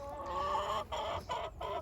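A rooster kept in a backyard flock for a meat-breeding project gives a loud, close call of repeated harmonic bursts broken by short gaps, with no other sounds.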